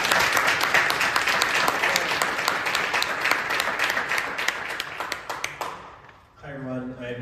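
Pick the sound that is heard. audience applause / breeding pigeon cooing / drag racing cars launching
audience applause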